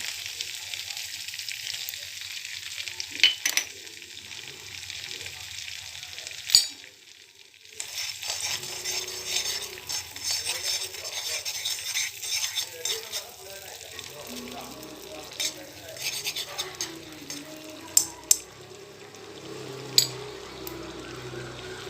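Tempering frying in butter for ven pongal crackles and sizzles in a continuous close hiss, with occasional sharp pops and clinks of a utensil, and faint talk partway through.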